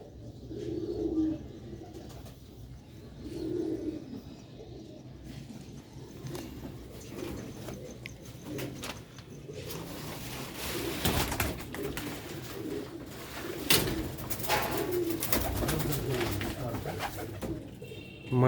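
Sialkoti rooftop pigeons coo in repeated low, throaty phrases at moderate distance, with scattered chirps and a few brief wing flutters over steady outdoor background noise.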